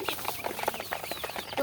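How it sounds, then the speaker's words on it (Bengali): A flock of young farm chickens, about six weeks old, clucking softly in quick irregular bursts, close and quiet, with no other sounds standing out. "মুরগিগুলো"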